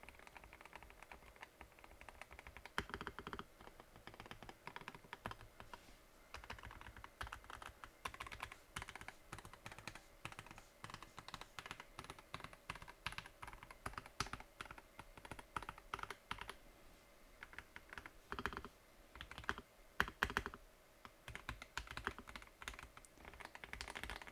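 Fingers type steadily for a long stretch on a MelGeek Mojo84 plastic mechanical keyboard fitted with custom switches, giving dense, close, continuous key clacks with no voices.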